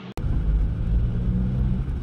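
A steady, loud engine rumble from a car driven on the road in fourth gear, a low hum with wind noise over it, broken only by one brief click near the start, with no voices.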